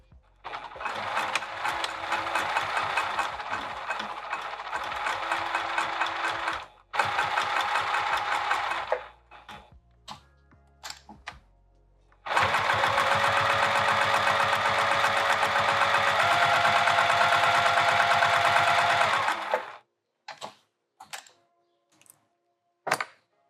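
A sewing machine stitches a vinyl handbag in long steady motor-driven runs, one of about seven seconds and another of about seven seconds, with a short burst between them and a few brief clicks and taps near the end.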